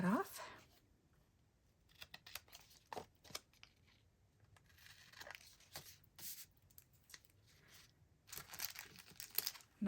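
Scissors snip and trim craft paper in a series of short, irregular cuts with crinkling paper handling, close and fairly quiet, with a voice talking intermittently.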